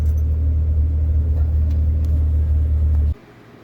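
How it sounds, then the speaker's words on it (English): An auxiliary cooling fan on a 1998 Jeep Cherokee XJ hums as a steady low drone with the key on and the engine off, then stops abruptly near the end. "You can hear my auxiliary cooling fan running."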